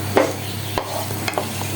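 Chopped ginger, garlic and chili frying in oil for a Chinese vegetable dish: a brief close sizzle with a few light stirring scrapes and no talking.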